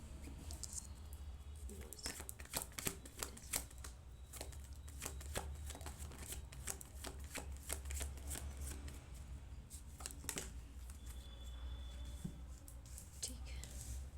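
Tarot cards being drawn and shuffled by hand, soft papery riffles and slaps in irregular clusters, close and faint beneath a low background hum.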